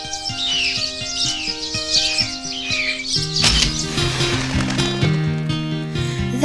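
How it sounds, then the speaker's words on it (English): Cartoon forest birds chirp and tweet in quick high bursts over a bright orchestral score, with musical notes layered beneath the birdsong throughout. "Birds are singing as they're ringing here and there."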